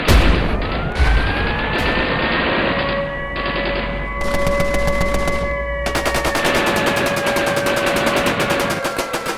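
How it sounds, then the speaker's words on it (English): German anti-aircraft fire during the Normandy airborne drop: rapid, dense bursts of automatic gunfire crackle continuously over a droning aircraft engine hum, loud and close throughout. "German anti-aircraft fire opens up all around them"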